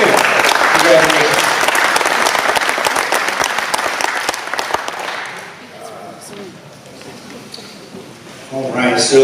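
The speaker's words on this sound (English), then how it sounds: "I think a special applause for them." Audience applause for a couple marking their 60th wedding anniversary, a dense crowd burst that starts loud, thins out midway, then swells again near the end, with a voice briefly heard over it.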